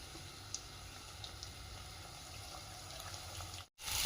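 Chopped onions fry in a pan for paneer bhurji, a faint, steady sizzle and bubbling hiss with small crackles, alone with no talk and a brief cut near the end.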